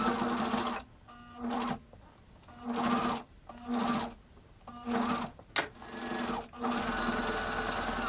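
Sewing machine stitching in several short bursts, each whirring run starting and stopping with brief pauses between, close and moderately loud with no talking.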